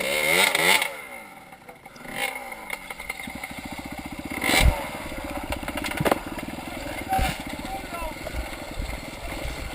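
A motorcycle with no clutch climbs a wet, slippery hill, its engine rumbling and surging in uneven revs under a rider's talking, with clattering bursts throughout.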